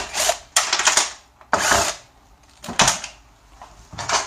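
A power drill spins out screws from a drain pump on a one-way ceiling-cassette system air conditioner, giving several loud, short whirring bursts separated by brief pauses.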